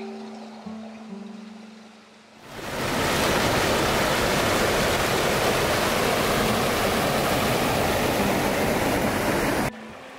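Steady broadband rush of Bradshaw Brook flowing beside a small beach near Edgworth in Lancashire, loud and continuous for most of the stretch, starting abruptly after a quieter opening.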